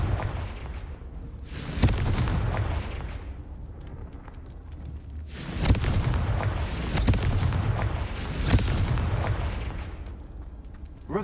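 Repeated booming, crackling explosions from the Confringo blasting spell in a Harry Potter video game, several loud bursts spread over about eleven seconds with rumbling decay between them.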